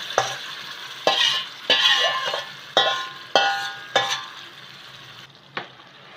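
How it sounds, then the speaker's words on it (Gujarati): Sharp, loud scrapes and clanks of a spoon against a pot come in separate strokes as green beans, carrot and capsicum are mixed into a sizzling Kathiyawadi gravy, with a faint hiss trailing between strokes. "આ ગ્રેવી સરસ સતળાઈ ગઈ છે, તો હવે એની અંદર આપણે આ બધું મિક્સ કરી દઈશું।"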